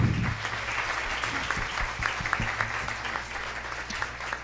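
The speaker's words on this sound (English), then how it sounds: "a big round of applause for them." Audience at an awards celebration breaking into a big round of applause, a steady wash of many hands clapping at moderate distance, continuous for several seconds with faint voices beneath.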